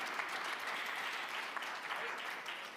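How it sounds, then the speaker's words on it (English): Applause from the audience at the Munich Security Conference, dense continuous clapping from a large hall crowd, steady and even across the short span with no pauses. "Round of applause for him."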